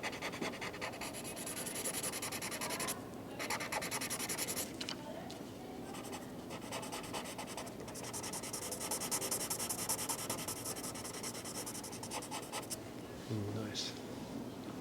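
A colorless blending pencil rubbing over colored pencil on paper, a soft continuous scratchy scrubbing in steady strokes, close and faint, with a voice talking over it.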